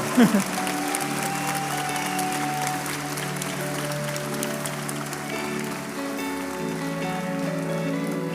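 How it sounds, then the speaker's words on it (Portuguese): Steady crowd applause at a church service fills the whole stretch, a dense patter of clapping with a sustained musical tone and some voices underneath. "você pode aplaudir a Jesus?"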